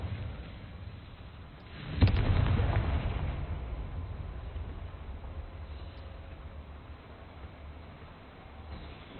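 In the video game Hogwarts Legacy, the Confringo explosive spell bursts with a sudden deep boom, then rumbles and fades over several seconds against a low, steady background.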